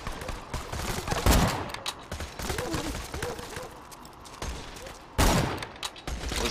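Gunfire in Borderlands 2 comes in dense bursts of repeated shots over about six seconds, loud and close, with a heavy blast near the end and quiet commentary underneath.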